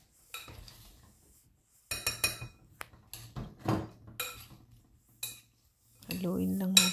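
Utensils toss a salad of cucumber, apple and avocado in a bowl, giving irregular clinks and scrapes in short bursts separated by quiet gaps, close and fairly soft.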